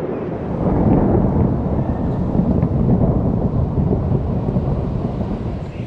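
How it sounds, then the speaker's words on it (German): Heavy thunderstorm in London: a continuous low rumble of thunder mixed with wind buffeting and rain, loud and steady throughout, with no voices. "weil hier ist gerade ein dickes, fettes Gewitter in London"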